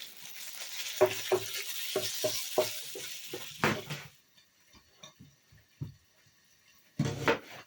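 Small pieces of lard fry in a frying pan with a steady close sizzle and rhythmic scraping stirs, then a quieter stretch of soft pops before the sizzle returns.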